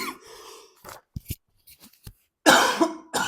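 Several coughs, some soft and one loud burst near the end, separated by silent pauses; a voice murmurs briefly at the start.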